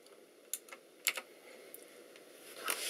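Clicky Razer BlackWidow Chroma keyboard with Razer Green switches being typed on in a few sparse, sharp keystrokes, close and fairly quiet, with a cluster of clacks near the end.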